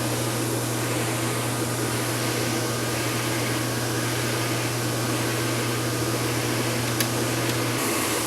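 Mutoh sublimation printer running a head clean cycle, a steady close mechanical hum and hiss that drones on evenly throughout, with a faint click near the end and no talk.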